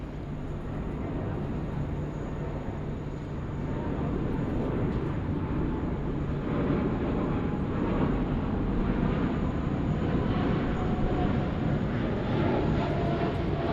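An airliner landing on runway 34 left at Sydney Airport at night, a loud, broad jet engine roar that swells and holds steady as the plane passes, heard from a distance outdoors with no talking.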